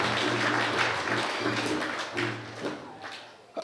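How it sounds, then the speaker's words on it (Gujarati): An audience at a church inauguration applauds to honor the sisters. The crowd's clapping is fairly loud and steady, then thins out and fades toward the end. "એમનો સૌનો અભિવાદન કરતા તાળીઓથી આપણે પણ એમને વધાવી દઈએ"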